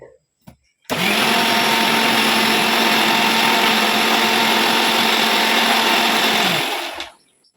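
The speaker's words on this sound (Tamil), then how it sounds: "இதில் நான் இப்போ ஒரு கொத்து கருவேப்பிலையை மிக்சி ஜார் அரைக்கிறேன் பார்த்தீங்களா" A bunch of curry leaves is ground in a mixer grinder jar. The motor kicks in loud and close, whirs steadily for about six seconds, then winds down and stops.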